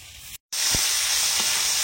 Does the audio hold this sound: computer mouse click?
no